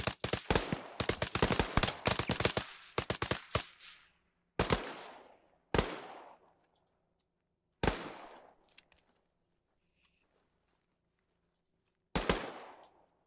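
Gunfire in the military video game ArmA 3: a rapid burst of loud shots, then isolated single cracks spaced several seconds apart, each with a short decaying tail, with no talking.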